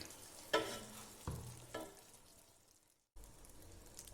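Pork roast stirred in a non-stick pan while it cooks down, a soft background sizzle broken by three scraping stirs and a brief gap before the frying resumes, quiet and close.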